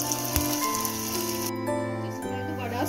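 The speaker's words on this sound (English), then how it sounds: "Just make a hole and drop it in the oil." Medu vada (ulundu vadai) batter sizzles in hot oil as it is dropped in, a steady crackling fry under prominent background music.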